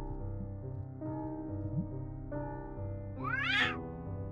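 A cat in the video game Children of Silentown gives a clear, rising meow near the end over a quiet, droning game music background.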